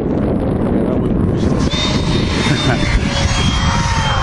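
An RC F-18 jet powered by an electric ducted fan, upgraded from 64mm to 70mm, whooshes overhead with a steady high whine and some wind buffeting on the microphone.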